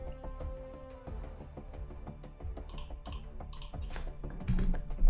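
Rapid, uneven typing on a computer keyboard during Lua coding, a near, dry clatter of keystrokes that runs throughout with a louder burst of taps at the end.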